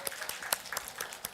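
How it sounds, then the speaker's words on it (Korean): A church congregation claps at a Sunday morning service, a soft, steady patter of many hands at a distance. "박수 한번."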